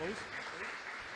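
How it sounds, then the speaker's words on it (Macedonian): Audience applause at a Macedonian concert event, a steady broadband patter of many hands clapping together, loud and sustained for the whole moment with a brief voice trailing off at the start. "Ве молиме френетичен аплауз."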